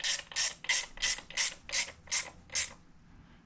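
A hand ratchet runs screws into the derby cover of a 2018 Harley-Davidson Sport Glide FLSB, making about eight evenly spaced, close, crisp clicking strokes that slow and fade at the end.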